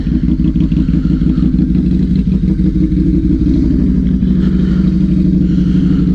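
A Harley-Davidson V-Rod motorcycle being ridden on wet December roads, its engine a loud, close, steady rumbling thrum with a pulsing beat throughout.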